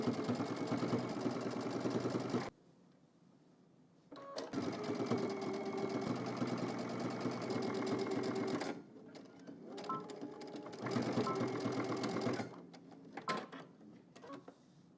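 A sewing machine stitches fabric in three fast, steady bursts, close and loud, with short quiet pauses between runs and some faint handling noise.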